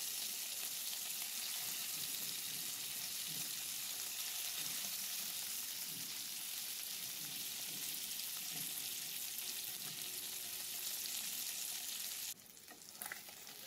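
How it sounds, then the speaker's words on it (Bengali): Bata fish frying in hot oil, a dense steady sizzle and crackle running throughout at moderate level, with a brief handling shift near the end and no talk. "ভেজে নেব, বাটা মাছগুলো।"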